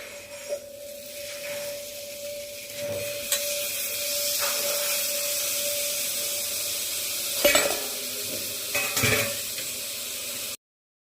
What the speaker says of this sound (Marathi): आता आपण माकल्या टाकून घेऊ